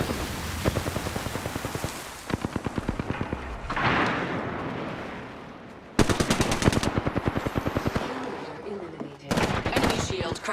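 Rapid bursts of automatic gunfire in the video game Apex Legends, loud and close, come in several rattling volleys separated by brief pauses, with some voice underneath.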